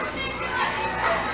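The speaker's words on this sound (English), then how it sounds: "And you hear the Central crowd" Fans of East Central cheer and shout in the stands at a Region 23 college softball game against LSU-Eunice, a dense, steady wash of many mixed voices, fairly loud and continuous throughout.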